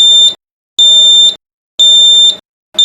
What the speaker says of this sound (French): en réponse à une alarme H2S dans la salle du générateur principal